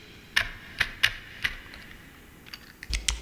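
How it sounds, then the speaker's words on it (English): Random bursts of computer keyboard keys mashed by hand, layered as a sound effect for a web browser and screen text animation; sharp clattering clusters arrive irregularly, with a denser flurry at the end, close and fairly quiet. "mashing my hands on the keyboard for several minutes"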